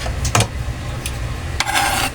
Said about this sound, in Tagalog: Ayan, igisa na natin.